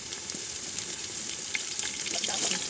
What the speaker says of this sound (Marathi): तर गुलाबी रंगावर कांदा थोडंसं भाजून घेऊ